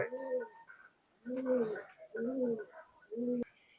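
Pakistani high flying pigeons coo in a loft: four deep, rounded coo phrases repeat with short pauses between them, close and clear, with faint higher chirps in the background.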